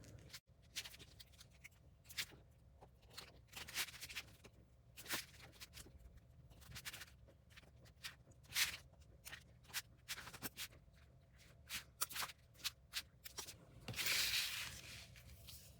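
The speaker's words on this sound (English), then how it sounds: "I'm just going to cut around the outside of the entire pattern piece" Scissors snip around a fabric pattern piece on a cutting mat, making a series of short, crisp cuts in an uneven rhythm, close and fairly quiet, with a louder rustle of fabric near the end.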